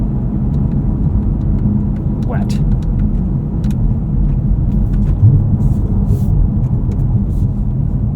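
Steady low rumble of a 2024 Cadillac CT5-V Blackwing driving on a snowy road, a constant engine and road drone heard from inside the cabin, with a voice talking briefly over it.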